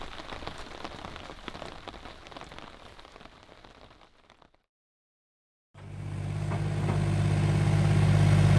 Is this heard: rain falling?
yes